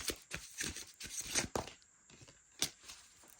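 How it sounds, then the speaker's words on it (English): An overhand shuffle of a Golden Age Tarot 1909 deck on quality cardstock gives close, repeated papery sliding and riffling bursts in an uneven rhythm, with a sharper snap near the end. "Overhand shuffle. They slide so nicely."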